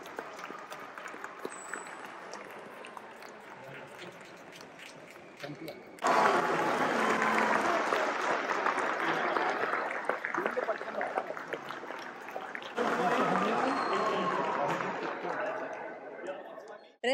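Audience applause and crowd chatter at a dolphin show in a zoo park, steady clapping that swells louder and denser partway through and again near the end, with voices mixed in.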